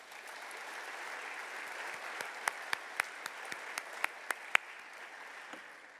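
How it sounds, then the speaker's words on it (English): Audience at the Daniel H. Burnham Award Dinner in Chicago clapping, a steady patter of applause from a moderately sized crowd with a few louder, sharper claps standing out near the middle before it fades. "Please join me in giving them a round of applause."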